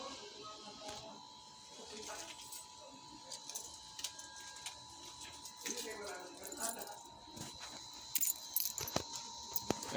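Keys jangle in soft, repeated metallic bursts close by, with a steady electronic whine and faint background noise, and a voice speaks quietly now and then.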